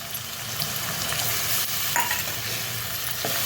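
Tomatoes frying in a pan with ginger-garlic paste for pav bhaji, producing a continuous close sizzle with the rustle and scrape of stirring throughout.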